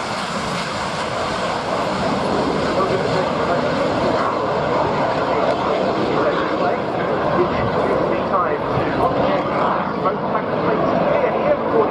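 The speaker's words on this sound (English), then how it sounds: "On the roll now, our next display light is the British Aircraft Corporation Strike Masters" A BAC Strikemaster jet rolls for takeoff at an airshow. A broad, steady roar builds at moderate level beneath a commentator's voice over the public address.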